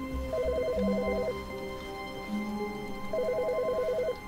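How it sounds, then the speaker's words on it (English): Telephone ringing in the video game The Stanley Parable, two electronic trilling rings separated by a pause, over a steady low ambient hum. "Is the phone ringing?"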